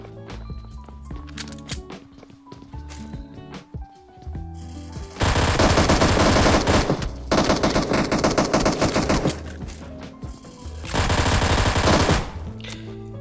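Gunfire in the PUBG battle-royale game: a pistol and a SCAR-L rifle trade shots in two loud, sustained bursts of rapid reports, separated by a quieter stretch of game sound and scattered thuds.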